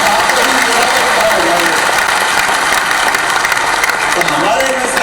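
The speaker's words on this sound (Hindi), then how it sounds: "ताली बजाओ तो दिल खोल के बजाओ।" Audience at a regional industry conclave applauding steadily and loudly, with a dense, continuous wash of clapping that holds through the whole stretch.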